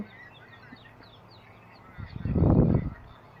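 Khaki Campbell ducklings at a bird market give faint peeps and chatter, then a louder burst of close quacking and honking calls lasting under a second.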